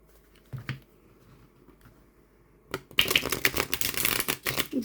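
A slightly stiff Halloween tarot deck is handled with a few soft taps, then riffle shuffled in one long, close, crackling burst of fluttering cards that runs to the end.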